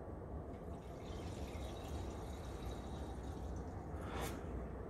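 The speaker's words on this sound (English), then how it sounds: "If I open this, you'll probably hear the water start to enter the system" Water flowing through a filling valve into a sealed domestic heating circuit being topped up, a steady broadband hiss and rush of liquid that holds constant throughout, with a brief sharper spurt near the end.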